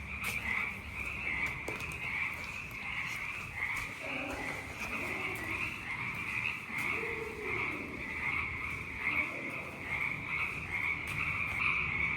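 A dense chorus of frogs croaks and trills continuously at night at a campground in Leo Carrillo State Park, with a steady high insect-like drone and a few deeper croaks rising nearby.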